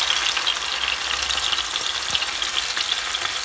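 Whole brinjal stuffed with garlic masala frying in a pan, a close, dense and continuous sizzle with no voices.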